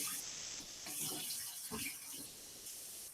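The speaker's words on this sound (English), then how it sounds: "I'm going to quickly put this down and wash my hands" Oil-covered hands are rinsed under a running tap at a sink: a steady, close hiss of flowing water continues throughout, broken by uneven splashes and rubbing as the hands move through the stream, with no voices.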